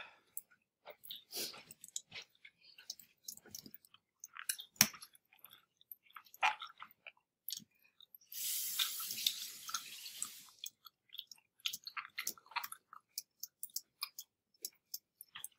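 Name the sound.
chewing crunchy food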